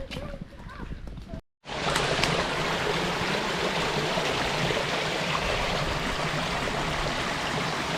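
Water pouring from a farm drain into a river in the English countryside, a loud, steady rushing flow nearby that starts abruptly after a brief pause, following a short stretch of quieter outdoor sound.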